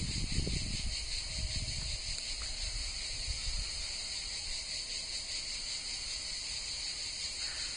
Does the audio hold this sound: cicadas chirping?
yes